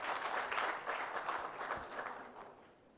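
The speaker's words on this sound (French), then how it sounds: "Sous vos applaudissements, s'il vous plaît." Audience applause at a closing ceremony of a digital round table in Gabon, a dense wash of clapping that swells early and gradually fades over a few seconds, heard from within the hall without speech.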